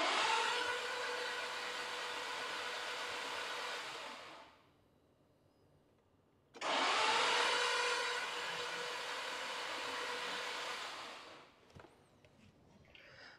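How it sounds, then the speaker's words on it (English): A Nissan X-Trail with a QR25 engine is cranked over on the starter after a head gasket replacement, giving two long, steady whirring bursts with a short pause between them and no firing. "now with some oil in it, we're just going to crank it over"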